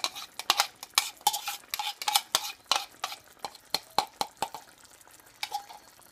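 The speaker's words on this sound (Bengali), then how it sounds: "এবং সর্ষের পেস্টটা এতে মিশিয়ে দেওয়া হলো।" A spoon stirs mustard paste into a simmering hilsa fish curry with potato in a pot, producing a series of sharp metallic clinks and scrapes at an irregular rhythm, fairly close, tapering off toward the end.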